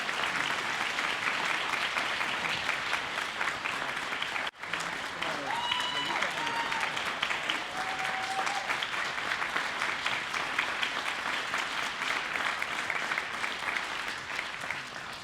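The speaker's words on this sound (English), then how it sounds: "Let's give him a big round of applause." An indoor audience at a conversation event with Tuskegee Airman Charles McGee gives loud sustained applause that holds steady throughout, with a brief dip partway and faint voices underneath.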